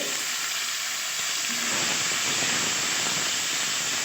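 Meat and fish frying together in hot oil with bay leaf, garam masala and black pepper for mixed fried rice, a steady close, loud sizzle and hiss that swells about halfway through, with no talking.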